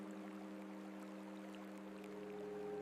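Steady rush of moving water nearby, a constant soft flow with a low hum beneath it and no variation in level.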